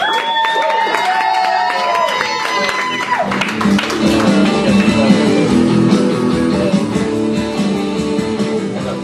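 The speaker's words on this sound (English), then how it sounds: "And keep that applause going for Sam Saxon's last poem of the night." Steady crowd applause and clapping at a poetry slam fill the space, loud and sustained, with some cheering and voices mixed in.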